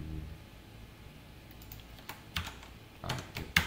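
Computer keyboard keys are pressed for a shortcut combination, a few sharp, close clicks in small clusters over a quiet background, growing slightly louder toward the end.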